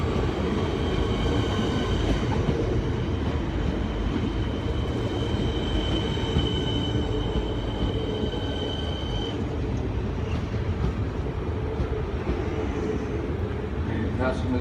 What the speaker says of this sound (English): Train now coming into the platform on platform 3, service to Flinders Street, Siemens train.